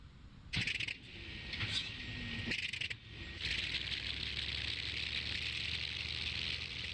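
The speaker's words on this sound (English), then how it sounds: "we're going to hit that starter, and it no longer becomes a silent cockpit" A few mechanical clicks and clunks, then a Hawker Sea Fury FB.11 engine starts up in a flight simulator game and settles into a steady whining drone.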